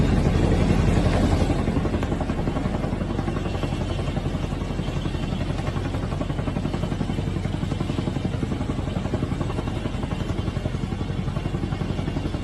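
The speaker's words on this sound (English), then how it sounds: "this is the helicopter above where Maduro's building was" Helicopter hovering low over a building during a military raid, a loud, steady rotor thrum and engine drone with rhythmic blade chop that stays close and constant throughout, with no talk.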